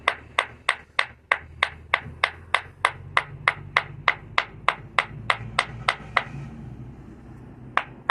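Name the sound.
hammer pecking stone to shape a battle axe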